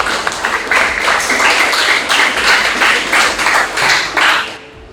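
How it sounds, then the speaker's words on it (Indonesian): A classroom of students clapping together, loud and close, in a dense, even burst of applause that fades out over the last half second. "sekali lagi tepuk tangan untuk kalian semua"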